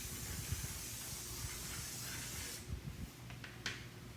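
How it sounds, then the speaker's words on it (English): A WD-40 aerosol can sprays in a steady, close hiss for about two and a half seconds, then stops, followed by a few faint handling taps and short bursts. "Now put the WD-40 on."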